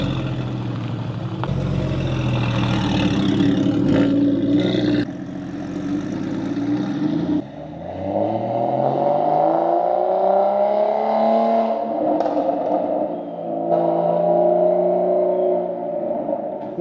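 A Porsche 911 Turbo starts and drives off, its engine idling, then revving and climbing in pitch as it accelerates away, loud and close at first before easing back, with no talk over it.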